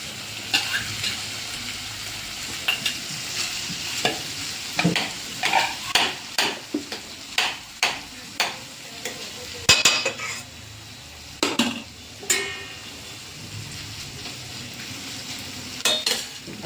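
Dry vegetables stirred into sabudana khichdi in a pan, a string of sharp spoon scrapes and clanks against the metal over a low sizzle, coming in irregular bursts close up.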